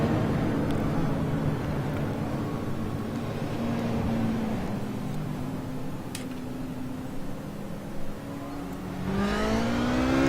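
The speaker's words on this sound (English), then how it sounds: "pace car off, and Quentin Young hits the gas" A race car engine drones steadily behind a pace car, then climbs sharply in pitch near the end as the leader accelerates at the green flag start.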